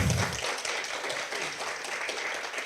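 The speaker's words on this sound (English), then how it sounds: "a big thank you again and applause for our presenters." A conference audience applauds in a hall, with steady, fairly faint clapping that continues throughout with no pause.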